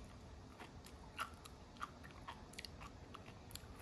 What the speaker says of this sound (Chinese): 好了啊，我们现在开始享用一下这个海葡萄